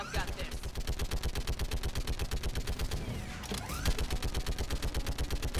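Rapid automatic gunfire in the video game Mass Effect, a dense, loud, evenly pulsing stream of shots filling the whole stretch, with a brief whooshing effect partway through.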